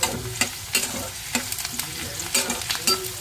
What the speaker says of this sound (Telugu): ఉల్లిపాయ వేగుతుంది